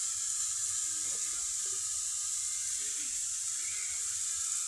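Fish with chopped vegetables frying lightly in a pan gives a steady, even sizzle and hiss throughout, with a few faint clinks now and then.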